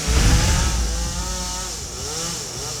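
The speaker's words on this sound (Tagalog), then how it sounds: "Gamit ang chainsaw, nagsagawa ng pruning o pag-alis sa mga sanga ng mga punong kahoy" Chainsaw pruning branches from trees inside a school compound in Pangasinan, a steady loud engine drone with slight revving, close and continuous throughout.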